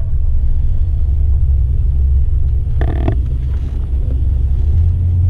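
A Trans Am drag car lines up against a Camaro at the drag strip, heard as a steady low engine rumble throughout with a brief louder mechanical burst midway, fairly distant and without any voices.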